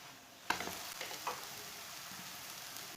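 Jaggery paratha frying in oil on a hot pan, a steady close sizzle that flares sharply as it is flipped, then settles into a continuous hiss with a few soft spatula scrapes.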